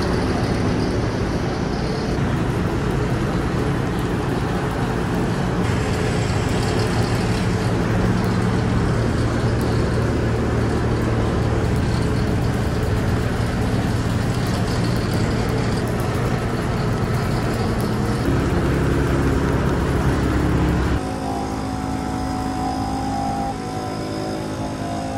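Steady loud hiss and airflow of a powder coating spray gun applying super chrome powder to 350z wheels, continuous and close with slight shifts in tone as the gun moves, a compressor-like drone underneath.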